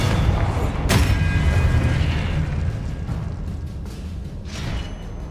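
A Confringo spell explodes in Hogwarts Legacy with a sharp burst followed by a rumbling boom, then softer combat noise and smaller pops fading out.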